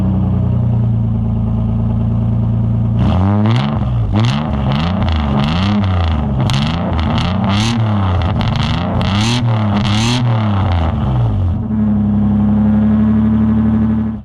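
A 400 kW project car with its muffler cut out idles loudly, then revs hard in a rapid series of rising and falling blips for several seconds before settling back to a rough, loud idle.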